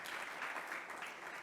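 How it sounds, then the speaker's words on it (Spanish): A church congregation applauds during a Spanish-language service, with brief, fairly faint, continuous clapping that sounds like a room of people clapping together. "¿Cuántos le pueden dar un fuerte aplauso al Señor?"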